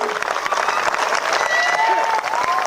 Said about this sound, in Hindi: इस ठंड में भी हाथ गर्म करके तालियां बजाने की ताकत